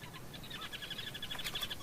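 Sociable weaver birds call from their huge communal grass nests in rare long-trunked African trees, a steady chorus of faint, overlapping chirps and twittering notes.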